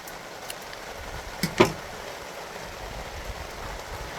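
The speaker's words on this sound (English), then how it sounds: "Just raining out there." Steady broadband hiss of rain falling outdoors, continuous and even, with a couple of brief knocks partway through.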